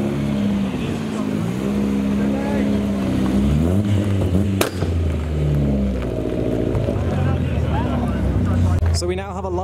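A loud Volvo wagon at a car show idles and revs, its engine and exhaust droning with rising and falling pitch before a sharp bang near the end, with people talking over it.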